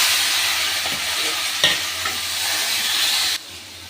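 Water lily stems tip into a pan already frying with shrimp, setting off a loud, dense, continuous hiss and sputter with a couple of brief knocks before the sizzle drops away abruptly near the end.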